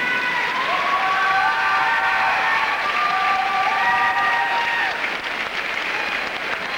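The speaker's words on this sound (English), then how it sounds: "Elvis Stoico, who's just about 4 or 5 rows below us, leading the applause here for the Canadian ladies champion." Arena crowd applauding a figure skater at a world championship, a broad sustained wash of clapping and cheering with a few whistles, while a commentator talks over it.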